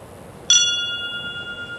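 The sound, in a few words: brass bell on cedar post ringing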